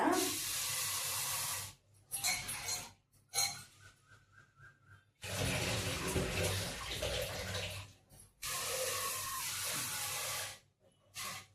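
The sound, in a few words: washing lentils (dal) in water for palak pappu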